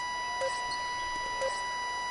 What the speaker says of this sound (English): they turn over the 24-second buzzer, signaling the shot clock violation